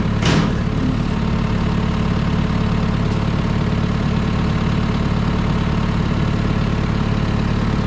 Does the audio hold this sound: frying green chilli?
no